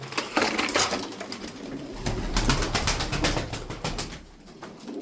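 Several pigeons coo and murmur close by, with soft rustling and occasional wing movement in the background, no speech.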